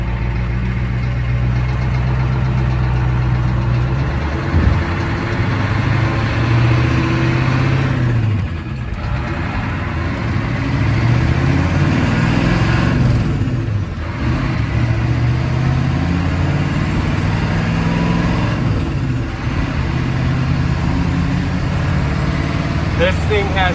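A 6.9 IDI diesel truck fitted with an eBay turbo accelerates hard, its loud, close engine roar holding steady with brief dips at a few points, like gear shifts, between pulls.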